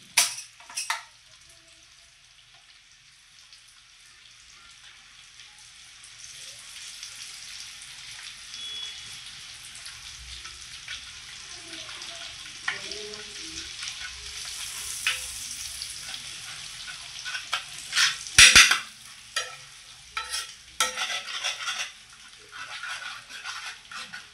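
Egg balls sizzle steadily in a pan as they are stirred, with soft hissing that grows busier and a burst of scraping and spattering near the end; no talking.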